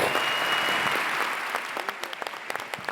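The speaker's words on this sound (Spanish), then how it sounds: "Un aplauso." Audience applause at a drug legalization conference, a dense burst of clapping that starts loud and full, then thins and tapers into scattered claps.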